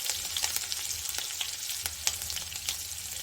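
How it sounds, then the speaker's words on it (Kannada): Chopped ginger and green chillies fry in hot oil for bonda, a soft crackling sizzle punctuated by light stirring clicks, close and alone with no talking. "ಇಷ್ಟನ್ನು ಚೆನ್ನಾಗಿ ನಾವು ಎಣ್ಣೆಯಲ್ಲಿ ಫ್ರೈ ಮಾಡ್ಕೊಳ್ಳೋಣ."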